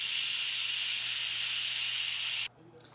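A pressure cooker loaded with pork vents steam in a loud, steady, close hiss that cuts off abruptly, leaving faint room noise.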